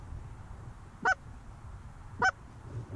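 Two loud, clear honks from a goose over an Iowa cornfield during a hunt, spaced about a second apart over a faint low background rumble.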